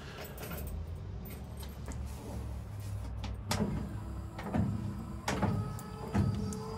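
Electric wiper motor fitted to a 1936 Chevy Coupe whirring as the two-speed wipers sweep, with rhythmic mechanical clunks at each stroke, close up and steady, no talking over it.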